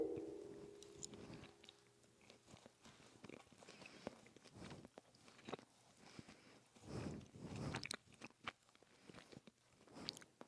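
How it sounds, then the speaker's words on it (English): Someone chews a hard caramel-topped snack up close, with irregular crunching bites and clicks coming and going over ten quiet seconds, with no talk over it. "That one's hard to chew up."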